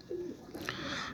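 Young pigeons coo once or twice in a loft, soft, brief throaty calls heard close and alone.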